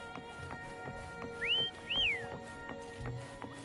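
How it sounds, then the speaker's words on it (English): A two-note rising and falling whistle calls a mount in the Wuthering Waves video game, sounding clearly twice over a soft game soundtrack with faint hoof-like clops. "Why don't you call Foam over? Try whistling"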